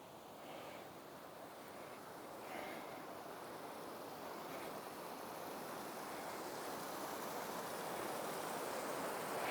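A winter creek in Deep Creek, Paradise Valley, Montana, flows beneath a bridge, giving a faint, steady watery rush with a soft broadband hiss that holds even and gradually grows slightly louder, with no voices.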